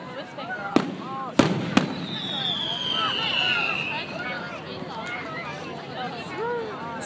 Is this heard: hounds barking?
no